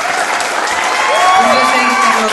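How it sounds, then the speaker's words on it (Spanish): An audience claps at the premiere screening of the film La Fuga at El Mexicanisimo in Santa Ana, a brief burst of applause with a voice and tonal sounds running over it. "quiero pedirles humildemente el más fuerte de los aplausos para Sarita Sánchez"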